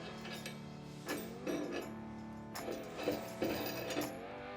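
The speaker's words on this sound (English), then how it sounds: "we'll go ahead and remove this bolt down here" Hand tools working a bolt on the front fork of a HISUN 200cc mini bike, giving a few separate metallic ratcheting and clinking bursts with quiet gaps between them.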